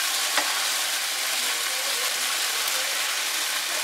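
A thick lobster thermidor sauce is stirred after English mustard goes in, making a steady, close, hissing, bubbling sizzle throughout without any talk.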